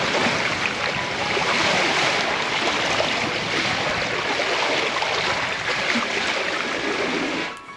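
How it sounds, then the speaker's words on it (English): Wind and water rush and gurgle steadily past the hulls of a new Seawind 1160 sailing catamaran under sail, a broad, continuous wash close to the microphone that fades out at the very end. "just the noise of the wind and the water gurgling through the hulls"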